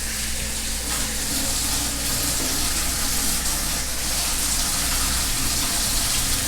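Tap water runs steadily while hands are washed beneath it, a close, even rushing splash that stays constant with no pauses.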